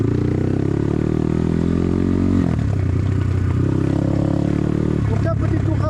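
A BTC T18 motorcycle riding through a village, its engine droning loud and close with a throaty, buzzing tone that dips briefly partway through, then steadies again.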